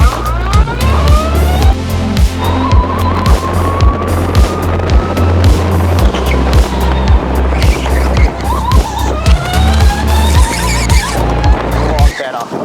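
Shifter kart accelerating hard out of a corner on track, its high-revving engine climbing in pitch through repeated surges, loud and close, with a voice talking over it.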